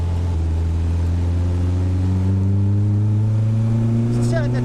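An MK Indy RX5 left-hand-drive kit car's engine accelerates on a test drive, a steady rising drone with climbing harmonics that holds throughout, loud and close, with a brief higher whine near the end.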